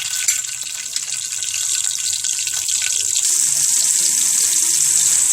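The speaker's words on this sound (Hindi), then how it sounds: "घी हमारा अच्छी तरह गर्म हो रहा है। इसमें हम डालेंगे 1/4 टेबल स्पून ये मेथी दाना है," Ground fenugreek seeds, about a quarter tablespoon, crackle and hiss in hot ghee while cooking egg and onion curry, with a steady, fairly loud sizzle that holds throughout.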